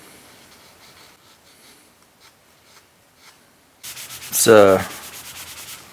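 800-grit sandpaper scuffs the clear coat on a Les Paul style Epiphone guitar neck in quick, close, rasping strokes that start abruptly after a quiet stretch and keep a steady back-and-forth rhythm.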